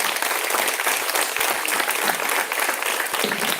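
Audience applauding the ten participants at the close of a school performance event, a dense, steady wash of many hands clapping close and loud for the whole stretch, with no talking over it.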